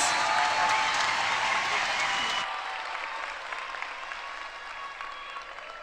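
A graduation ceremony audience gives a huge round of applause, loud dense clapping that drops off abruptly partway through and continues as a softer, thinner patter.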